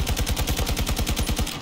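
Rapid automatic gunfire in Battlefield 2042 hammers out in a steady fast rhythm of close, loud shots, one sustained burst with no talk over it.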